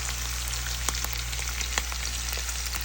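Food fries in a pan with a dense, crackling sizzle while being stirred, close and steady, with scattered sharp pops and scrapes throughout.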